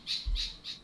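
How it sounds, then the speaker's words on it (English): Birds squawk three times in an even rhythm, shrill and fairly loud, with a low thump beneath the second call and no talk. "Please excuse the birds in the background."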